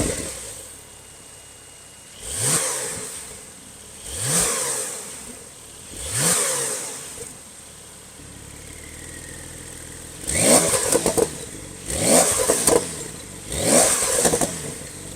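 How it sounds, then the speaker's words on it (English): A Porsche Carrera fitted with a sport exhaust system revs in six sharp bursts, three spaced blips followed by three harder, crackling throttle stabs, each rising and falling back to a low idle, close and loud with no talk. "And now the Carrera for us with the sport exhaust system on."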